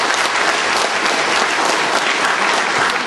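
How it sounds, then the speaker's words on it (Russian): Audience at a commemorative concert honoring a Buryat composer applauds steadily, a dense, even wash of clapping from a large hall crowd, with no other sound standing out. "Спасибо вам за эти аплодисменты."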